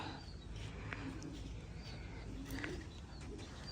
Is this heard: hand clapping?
no